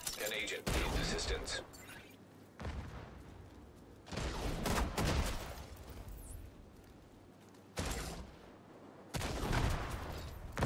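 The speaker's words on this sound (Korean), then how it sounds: "와, 저렇게 포격 날라오죠?" Artillery fire lands during a PvP Conflict match in The Division 2. Several loud, booming blasts and bursts come in irregular waves, with someone commenting over them.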